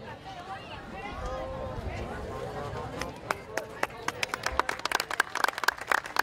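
Applause at the coronation of the patron saint during the San José Tzal religious festival, sparse claps building into quick, sharp clapping from a nearby group, with voices and murmur in the background.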